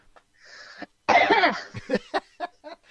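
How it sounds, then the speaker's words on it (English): A single loud, close cough, followed by a few short throat-clearing bursts and breaths. "Can you turn your head and cough for me?"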